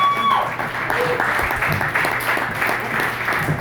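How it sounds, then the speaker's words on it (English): A comedy club audience applauds steadily, a dense wash of clapping that holds at an even level throughout. "Keep making some noise for my man Dalton"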